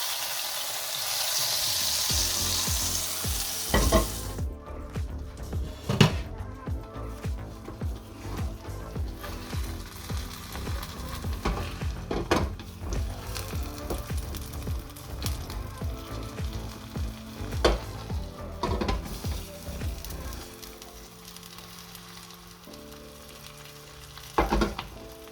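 A Transylvanian cheese bread pie cooks on low heat in a pan, sizzling and frying steadily up close, with occasional clinks and scrapes of stirring or handling throughout.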